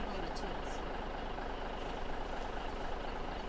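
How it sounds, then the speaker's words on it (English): A truck engine in Farming Simulator 17 drones loud and steady, with a dense continuous rumble and a few brief high hisses or beeps near the start, as a voice talks over it. "The truck is loud."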